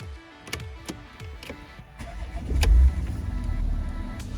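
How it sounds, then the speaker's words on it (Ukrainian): A Porsche Cayenne for sale in Germany starts up after a few clicks and knocks, then its engine rises into a steady, close idle hum. "Ну що, двигун то робить відмінно"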